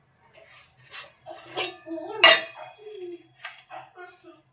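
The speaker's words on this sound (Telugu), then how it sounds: "2 టేబుల్ స్పూన్ పంచదార యాడ్ చేస్తున్నాం" A spoon clinks and scrapes against a pot while two tablespoons of sugar go into boiling tea, a series of light metallic taps close by, with a voice speaking intermittently.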